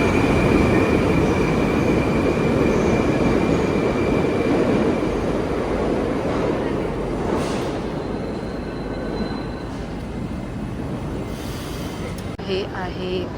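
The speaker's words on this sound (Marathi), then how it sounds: "हे आहे चोरसू railway metro station, underground metro station." Underground metro train at Chorsu station in Uzbekistan, a loud continuous rumble of the train with a steady hum that eases off slightly toward the end.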